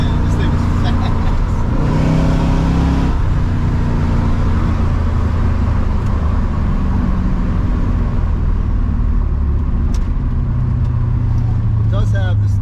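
A 1977 Corvette drives and accelerates, its engine a steady low rumble with a brief rise in pitch early on, close and loud, while someone talks over it.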